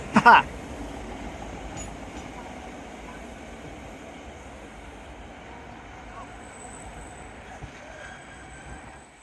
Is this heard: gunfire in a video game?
no